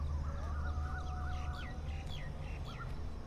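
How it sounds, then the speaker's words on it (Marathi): Several birds chirp and call in short warbling phrases over a steady low hum at a quiet railway station on the Panvel-Nanded Express route, moderately near and continuous throughout. "त्यात पक्ष्यांचा आवाज."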